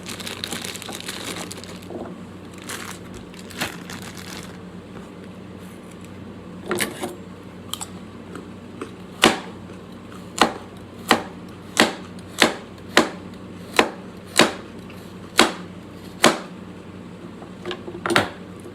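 A kitchen knife chops through baby carrots on a cutting board: a few scattered cuts at first, then a steady run of about a dozen crisp, sharp chops in even rhythm, close and clear.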